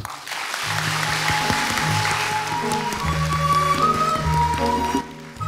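Audience applause at a reading and humanities school entrance ceremony in South Jeolla, with a dense wash of clapping that is full and loud throughout, broken by some sustained musical tones under it and tapering off at the end.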